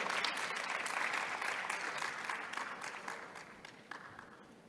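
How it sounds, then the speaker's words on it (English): Sustained audience applause at a panel discussion, many hands clapping in a dense, even patter that slowly tapers off. "A round of applause, everyone."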